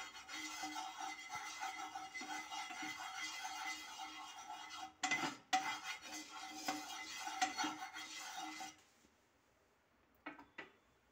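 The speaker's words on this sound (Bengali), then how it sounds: "এবার তেলটাকে আমি ভালোভাবে ছড়িয়ে দেব।" A utensil scrapes and clinks against a pan while spreading a small amount of oil for semolina upma, with irregular metallic rubbing that stops abruptly, followed by a few faint taps in near silence.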